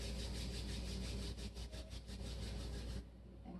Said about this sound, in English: Take your hands together at heart center and rub them together to make them warm.